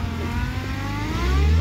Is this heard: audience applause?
no